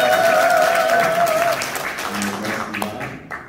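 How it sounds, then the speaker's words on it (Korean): Audience applause and cheering at a public event in Gwangju, loud sustained clapping with raised voices and a strong tonal shout at first, then thinning out and fading, with some speech mixed in. "박수 함성."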